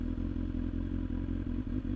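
A motorcycle fitted with a dB killer runs nearby with a steady, low, throbbing engine note and rapid regular pulsing, loud and close, with no voices.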